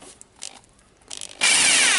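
A Hitachi DH22PH rotary hammer drill, just reassembled after service, switches on after faint handling clicks and runs with a loud, steady whine that holds through the final half second.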